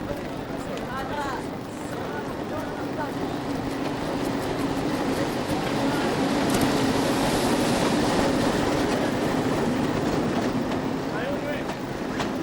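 An African passenger train rolls along the rails toward Lake Tanganyika and slows to a stop, making a continuous loud rumble and clatter with faint voices mixed into the noise.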